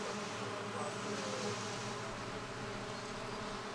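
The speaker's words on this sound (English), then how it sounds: "growers are increasingly using alternative pollinators, such as bumblebees and red mason bees, the artificial nesting place of which we can see next to me." Bumblebees buzzing around an artificial nesting place for pollinators, a continuous close droning hum with wavering pitch as insects move near and away.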